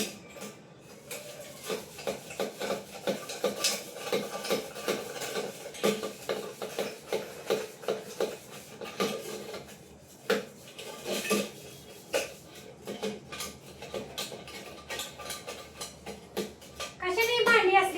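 Dishes, pots and pans are scrubbed and knocked together while being washed, with repeated scraping strokes and metallic clinks at a steady rhythm close to the listener, someone talking now and then over the clatter.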